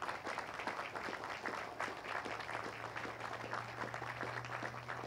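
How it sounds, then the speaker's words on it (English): Crowd applause at an outdoor Memorial Day celebration honoring the VA hospital system, a soft, distant patter of many hands clapping steadily for several seconds beneath a low steady hum. "Let's give them a round of applause."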